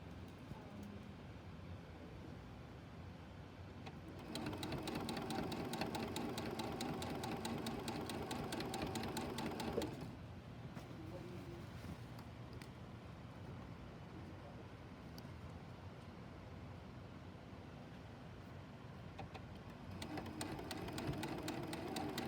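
A sewing machine stitches binding onto a quilted tree skirt, humming steadily in two bursts of several seconds with quiet gaps between, faint and close.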